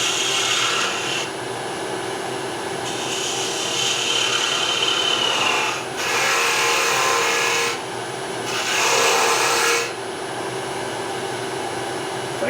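Tool cutting across the end of a wooden scoop spinning on a wood lathe, giving a steady close rasping, scraping hiss with a few brief pauses and louder bursts as the cut continues.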